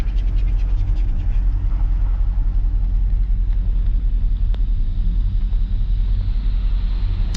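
A 1959 Imperial Crown cruising through Montreal evening rush hour, heard from inside as a steady, heavy low-frequency rumble of engine and road noise that holds constant throughout, with no one talking.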